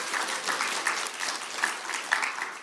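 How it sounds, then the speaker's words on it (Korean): Audience applause at a church gathering, a steady wash of clapping from a crowd that continues throughout with no talking. "박수 한번 하겠습니다."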